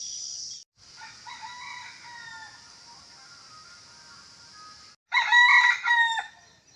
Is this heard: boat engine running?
no